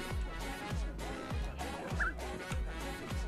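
A parrot imitating a zombie gives a run of low, rhythmic, gobbling groans, repeated steadily about every half second, fairly close and alone.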